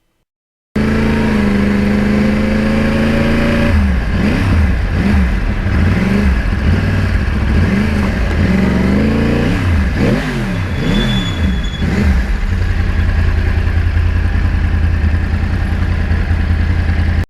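Yamaha R1 crossplane sport motorcycle on rural back roads, engine loud and close: a steady drone, then a run of rapid rises and falls in pitch as it accelerates and shifts, settling into a strong even roar.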